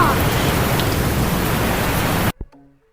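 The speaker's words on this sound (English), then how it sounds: "It's raining so much." Heavy rain during a thunderstorm pours as a loud, steady hiss for over two seconds, then cuts off abruptly, followed by a brief knock and faint tonal sounds.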